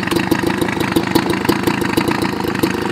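Homelite Bandit handheld leaf blower engine idling at a super low speed, a steady near, loud two-stroke putter with an even pulsing rhythm and no talk.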